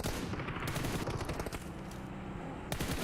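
Rapid gunfire from a mobile battle royale match at a PUBG Mobile esports tournament, dense bursts of automatic shots and explosions, loud and continuous, with no voice over them.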